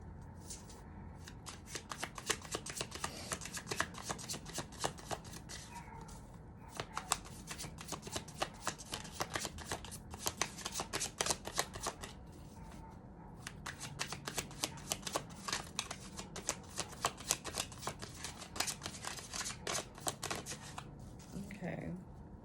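Tarot cards shuffled by hand in a long run of rapid riffling bursts, close and crisp, pausing briefly now and then before starting again.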